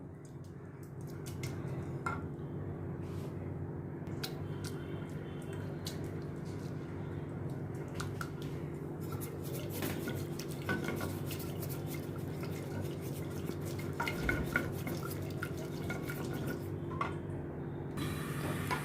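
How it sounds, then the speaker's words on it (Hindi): A dal masher squishes and presses through thick cooked toor dal just out of a pressure cooker, with soft wet thuds and occasional clinks repeating steadily. "इसको अभी मैं दाल घोटनी के साथ मैश करती हूँ"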